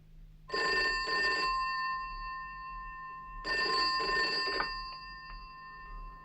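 An old-style bell telephone rings at Trumpton fire station, two long double-burst trills separated by a short pause, loud and close with no talking over them.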